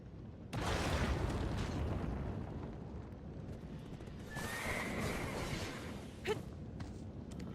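A horse whinnies in the video game Black Desert Online over a steady wash of game ambience and rumble, with a brief sharp sound near the end.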